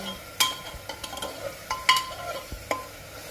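Chole masala sizzles in hot oil in a village kitchen while a spoon stirs it, giving soft frying crackle under several sharp metallic scrapes and clinks against the pan at an uneven pace.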